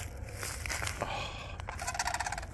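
Sandhill cranes at a marsh basin in Albuquerque give loud, rolling gobble-like squawks, a goose-and-turkey blend, in repeated bursts close by, with ducks nearby and no talking.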